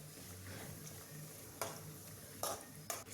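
A spoon scrapes and stirs a masala rice mixture frying in a pan, with soft, faint sizzling underneath and a few sharper scraping knocks against the metal, no voices.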